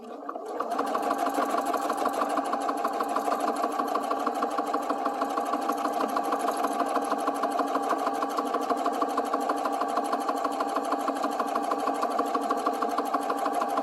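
Sewing machine running a steady continuous stitch along a skirt pocket seam, close and even in tone without breaks, with no talking.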